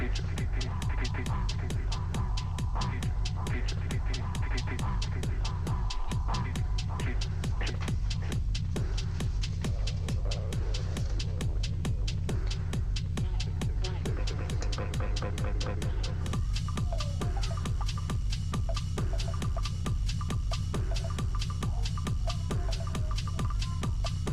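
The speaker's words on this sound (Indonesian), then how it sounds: "Dijahit muter sampai ketemu yang awal tadi." A domestic sewing machine stitches around a bed cover, a steady close rhythmic motor throb running continuously for a long stretch, with a brief change in tone partway through.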